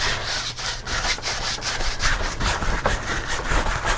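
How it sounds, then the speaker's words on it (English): A brush coats a canvas with smooth-flowing clear oil painting medium for a wet-on-wet holiday pumpkin painting, making a steady run of close, scratchy rubbing strokes that repeat in a quick, uneven rhythm. "So right now I'm just coating the canvas with some classic clear medium."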